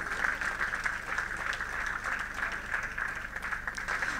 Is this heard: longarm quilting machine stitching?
no